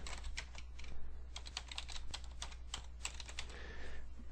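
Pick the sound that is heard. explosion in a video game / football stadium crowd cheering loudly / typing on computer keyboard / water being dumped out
typing on computer keyboard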